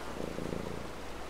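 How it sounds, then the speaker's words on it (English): A cat in the video game Brothers: A Tale of Two Sons purrs while being petted, a soft, steady rumbling purr at low volume. "You going to want to go over and pet the cat?"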